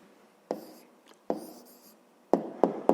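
Pen or pencil writing an answer by hand on paper during a fifth-grade maths exercise, several short close scratching strokes in separate bursts with quiet pauses between, no talking.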